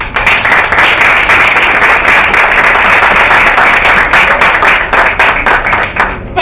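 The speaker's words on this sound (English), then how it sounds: "please join me in applauding the team" Loud, sustained applause from an awards ceremony audience honouring a team, dense rapid clapping filling the room with a few sharper individual claps standing out near the end.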